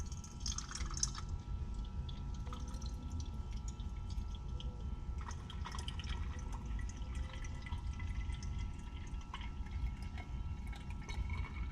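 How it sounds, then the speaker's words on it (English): Water trickles and drips steadily into an aluminum can during a chemistry lab exercise, a soft, close, continuous pour over a low background hum. "So now we're gonna transfer our water into our aluminum can."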